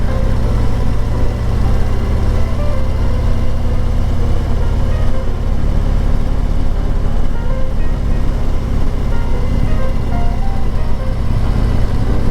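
A motorcycle rides the winding Tail of the Dragon road, its engine and wind noise forming a loud, steady roar that runs without a break from start to finish.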